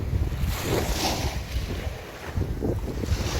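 Ocean waves at Hyeopjae beach on Jeju Island, a close, steady wash of surf with wind buffeting the microphone, rolling in broad surges without speech.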